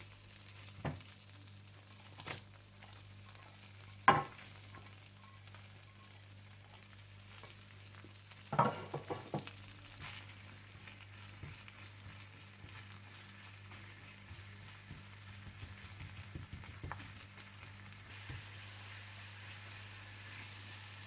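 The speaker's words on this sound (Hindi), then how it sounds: "आप इसमें लहसुन और हरी मिर्चें डालकर गोल्डन फ्राई करके निकाल लें।" Soft, steady sizzling of garlic and green chilies frying in butter in a pan, with occasional clinks and stirring scrapes, quiet and close with a low hum underneath.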